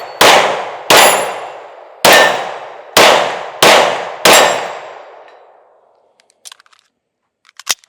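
Six sharp pistol shots from a Smith and Wesson M&P Carry Comp ring off a small steel target about 20 yards out, each crack followed by a long metallic ring, at an uneven steady pace, with faint clinks after.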